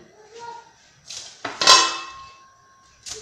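A metal shawarma grill pan clanks as it is handled up close. Soft knocks lead into one loud ringing clang, followed by a lighter knock at the end.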